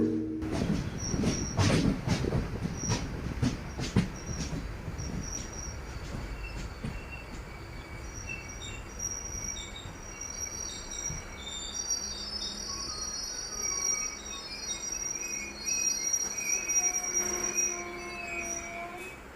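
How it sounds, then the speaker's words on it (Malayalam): A train pulls out of Kuttippuram railway station, which sits on a sharp curve: wheels squeal loudly at first, then settle into a steady rolling rumble with a faint high whine and squeal returning near the end, with no talk. "നമ്മുടെ ട്രെയിൻ അങ്ങനെ കുറ്റിപ്പുറം റെയിൽവേ സ്റ്റേഷനിൽ നിന്നും വീണ്ടും പുറപ്പെട്ടിരിക്കുകയാണ്."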